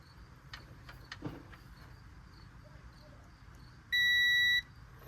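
A multimeter gives a single steady continuity beep lasting under a second while a car relay is tested during a 1994 Chevy Camaro Z28 coolant fan repair, after a few quiet clicks and handling sounds.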